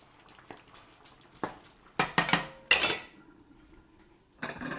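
A spoon clinks against a pot while stirring sharbat: a few soft taps, then a quick cluster of bright metallic clanks close by, with a final scraping rattle.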